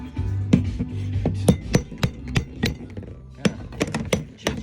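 Hammer striking an old refurbished chisel to knock off a glued piece, a series of sharp irregular metallic taps and knocks, close and distinct, with brief pauses between blows.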